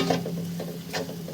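Taro stolons with turmeric and salt fry in a pan, a soft close sizzle broken by repeated scraping strokes of a stirring spoon at a quick, uneven rhythm, with no talk.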